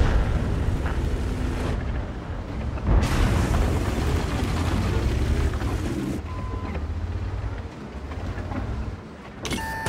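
Tank battle in World of Tanks with an FV201 (A-45), heavy rumbling engine noise and booming shots and explosions that surge and fade across the clip, with no talking.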